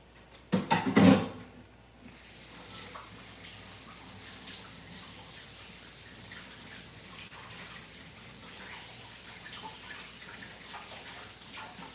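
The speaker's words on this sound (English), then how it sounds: "I'm gonna wash my hands" A few bumps and clatters come first, then water runs steadily from a tap at a sink for hand washing, a constant soft rushing that continues to the end.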